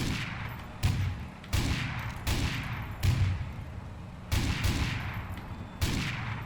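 Automated turrets in Garry's Mod blasting away, a string of heavy gunshots spaced roughly every second, each with a booming decay that fills the gaps, loud and close with no talking.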